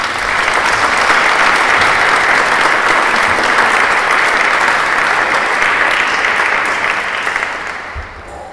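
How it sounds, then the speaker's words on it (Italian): Loud, sustained audience applause at an Italian talk, a dense wash of many hands clapping close by, holding steady for several seconds before tapering off at the end. "La ringraziamo già fin d'ora con un applauso."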